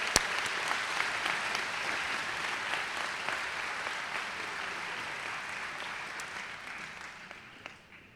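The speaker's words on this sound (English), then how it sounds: "Please join me again in giving applause for all three of these retirees." An audience at a college commencement ceremony applauds three retirees: a broad, even wash of many hands clapping in a large hall, sustained for several seconds before thinning and fading toward the end.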